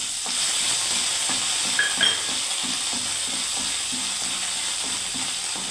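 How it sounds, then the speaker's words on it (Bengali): Ginger and chili paste sizzles steadily in hot oil for an eggplant curry, with a soft hiss and periodic scraping stirs in a regular rhythm, close and moderately loud, with no talking. "আদা আর লঙ্কা বাটার পেস্ট আমি দিয়ে দিচ্ছি"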